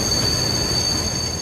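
A train under emergency stop by an Automatic Train Stop safety system, heard as a steady loud rumble of railcars and wheels with faint high squealing tones, no voices.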